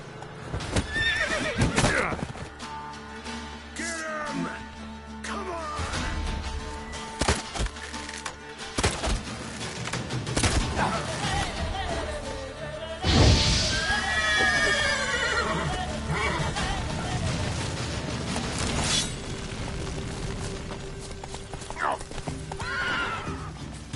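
A horse in the video game The Witcher Wild Hunt whinnies several times over steady clip-clop hooves while galloping, with other game sounds mixed in.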